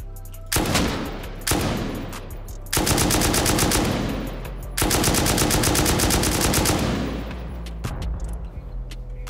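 Automatic gunfire from 5.56 ammo aimed at a turret in a shooter video game, loud sustained bursts of rapid shots separated by short pauses, with the final burst trailing off.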